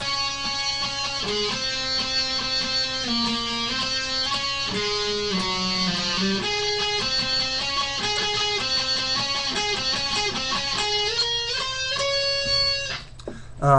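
A bright, rhythmic guitar solo from a song, quick picked notes running continuously at steady volume, ending with a brief clatter.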